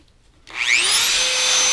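A power grinder bites into a part of an old scout knife under restoration, starting abruptly after a short silence and rising into a loud, steady high-pitched whine with a shrill, sweeping metallic screech.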